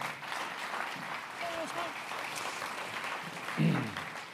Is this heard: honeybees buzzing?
no